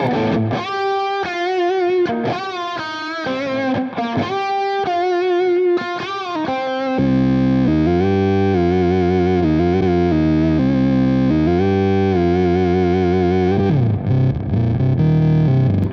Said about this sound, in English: I'll kick on a little more distortion for this one.